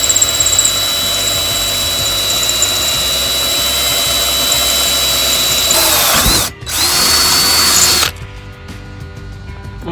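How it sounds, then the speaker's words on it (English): A power drill boring through a boat's skeg runs steadily with a high, continuous whine, briefly cutting out near the end before restarting, then stops abruptly. "the last part is just drilling through here"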